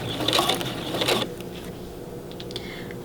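A sewing machine back-stitching along an invisible zipper with a universal foot, two short bursts of close mechanical whirring and needle clatter in the first second and a half, then quieter room tone.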